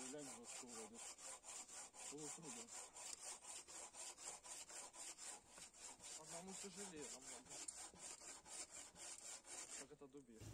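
A bow saw cuts firewood on a sawhorse at a winter bushcraft camp, with steady rhythmic back-and-forth rasping strokes, close and continuous for about ten seconds.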